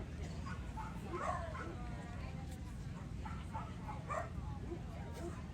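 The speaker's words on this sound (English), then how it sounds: "that white dog is a puppy" Dogs at an outdoor dog show, including a wild young white puppy, bark, yip and whimper in short scattered bursts under nearby people talking.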